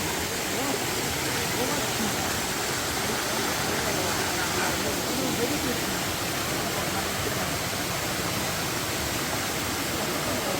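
Hot waterfall in Krabi, Thailand, giving a steady, dense broadband rush of falling and flowing water that stays even throughout, fairly close and continuous.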